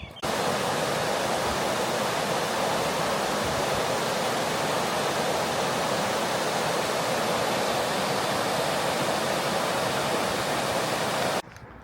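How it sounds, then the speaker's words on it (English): Water pours over a weir near Lemonroyd Marina in Woodlesford, a loud, steady, broadband roar that holds unbroken for nearly twelve seconds before cutting off abruptly. "I'll show you the weir over here."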